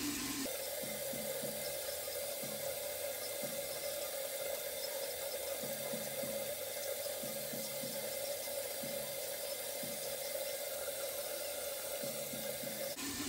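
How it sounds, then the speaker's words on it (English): Tap water runs steadily into a bathroom sink while a face mask is rinsed off, a continuous close hiss and splash with brief lower thumps and splashes of hands moving through the stream, no voices. "Once it's dry, you can go ahead and rinse that off of your face"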